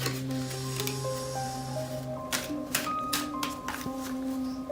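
Tarot cards being shuffled in a few soft riffling bursts, close by, over steady background music.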